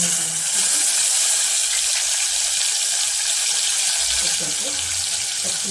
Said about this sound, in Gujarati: મેં તેલ ગરમ થવા મૂકી દીધું છે તો આપણે રાય અને જીરું નાખીશું